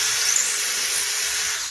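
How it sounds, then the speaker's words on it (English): A high, steady whine of a power drill boring through cedar wood, continuous and close for the whole stretch, with no voices. "So then I just drill through it"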